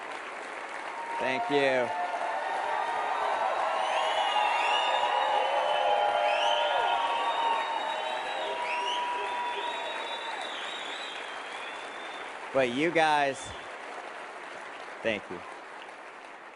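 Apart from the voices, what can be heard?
audience applause and cheering after a talk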